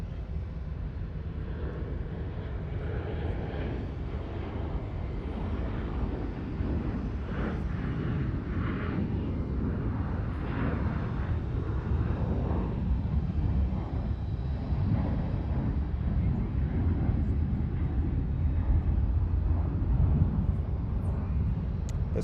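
An airliner arriving from Gainesville, Georgia at Charlotte Douglas International Airport gives a broad, steady engine roar that swells slightly over the whole stretch, continuous and fairly near, with no voices.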